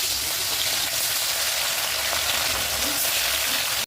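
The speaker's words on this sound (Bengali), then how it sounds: "এবার আমি মাছটা ভেজে নেব" Salted, turmeric-rubbed fish fries lightly in hot oil in a wok, giving a dense, even hiss that stays loud and constant before cutting off abruptly.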